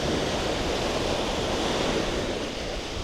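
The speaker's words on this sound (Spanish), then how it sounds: "qué relajante, amigos, escuchar el mar por la mañana" Morning ocean waves breaking on a Cancun beach, a continuous loud wash of surf with no voices.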